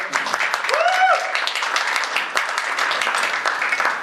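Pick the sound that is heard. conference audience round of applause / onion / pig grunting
conference audience round of applause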